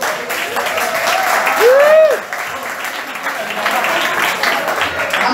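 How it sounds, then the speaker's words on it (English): A bar crowd at a live blues session applauds the staff, with dense clapping throughout, a whoop rising over it midway and voices mixed in. "Please, everybody, give applause for the Rockcaffe staff."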